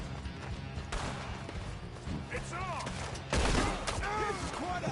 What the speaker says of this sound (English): let's change over to some explosive ammo